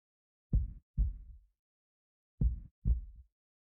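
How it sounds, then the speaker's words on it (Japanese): Two pairs of soft, low thumping heartbeats sound close and muffled, each a quick double beat separated by silence. "心音だけでとろけてしまうでしょ"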